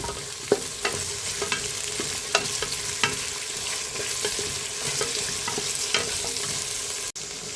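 Large onions being stirred and sautéed in a pan for arisi paruppu sadam: a soft continuous sizzle broken by regular sharp clinks and scrapes of a spoon against the pan.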